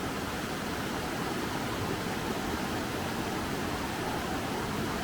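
A high, swollen stretch of the River Derwent rushing past at close range, a steady full-bodied roar of flowing water with no let-up, with no voices heard.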